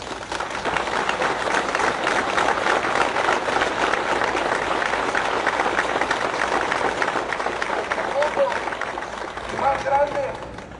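Audience applause for a speaker's brother at a televised memorial gathering, sustained broad clapping from a crowd with voices mixed in throughout.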